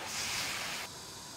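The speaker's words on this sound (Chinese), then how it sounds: "稍有煎之后，烹入一点料酒，加入水" Cooking wine and water splash into a hot wok of seared fish bones, giving a loud, close steam hiss that lasts under a second before settling into a quieter simmering hiss.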